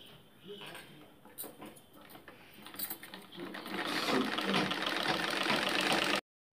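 A sewing machine stitches a folded strip of matching fabric into piping for a blouse sleeve, starting after some faint handling clatter and then running loud and steady for about two seconds before stopping abruptly.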